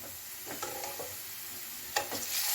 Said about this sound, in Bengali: বাদামি হয়ে আসলে চিকেন অ্যাড করে দিচ্ছি